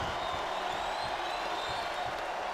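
Arena crowd chanting in the wrestling video game SmackDown vs Raw 2008 during a steel cage match, a steady wash of crowd noise with faint rhythmic pulses, heard alone.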